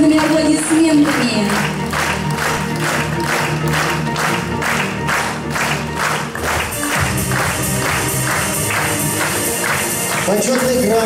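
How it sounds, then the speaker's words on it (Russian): Oil workers' Petroleum Day award ceremony in 2016, with sustained rhythmic group clapping from a large audience over stage music, loud and continuous throughout. "Встречаем дружными аплодисментами."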